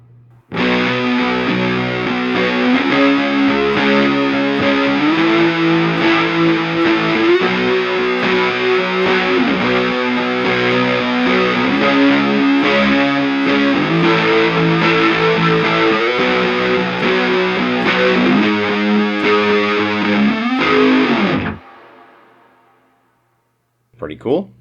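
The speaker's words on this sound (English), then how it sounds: "there's an overdrive, and it's a gray fuzz, and I used it thusly" Electric guitar through a Mooer GE300 multi-effects unit set to a gray fuzz overdrive with reverb, playing a steady distorted riff with sustained chords for about twenty seconds, loud and close, then cutting off abruptly to near silence.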